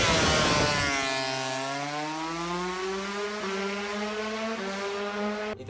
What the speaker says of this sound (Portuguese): Sabe quando os carros, as motos ficam com uma rotação aí? Igual tá aparecendo aí no vídeo pra vocês.